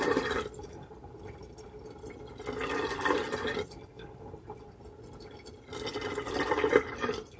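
Water drains from a kitchen sink after washing pots, a soft gurgling and dripping that swells in a few louder bursts against a quiet room.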